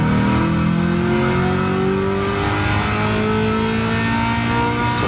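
A Garage 56 NASCAR Camaro ZL1 race car running flat out on the Mulsanne straight at Le Mans gives a loud, continuous V8 roar, its pitch climbing steadily as it accelerates through the gears.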